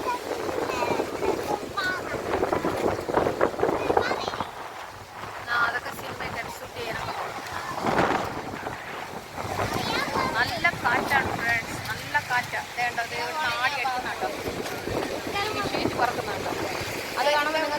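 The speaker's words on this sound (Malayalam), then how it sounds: "അറിയാൻ പറ്റുന്നുണ്ടായിരിക്കും കാറ്റ് എത്രത്തോളം ഉണ്ടെന്ന് നല്ല കാറ്റാ" Strong wind at Kovalam beach buffeting the microphone, a rough continuous roar mixed with surf, heard under a person talking throughout.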